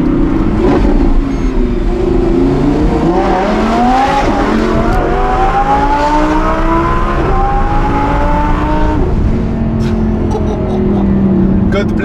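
Audi R8 with a naturally aspirated engine revving hard near Monaco, a loud continuous roar climbing through the gears with rising pitch sweeps, with voices talking over it.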